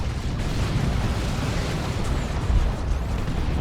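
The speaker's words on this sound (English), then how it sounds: "Missile barrage from the Terminators." A missile barrage from Space Marine Terminators in Dawn of War 2 rumbles as a dense, continuous wash of explosions and booms, with one heavier impact standing out near the end.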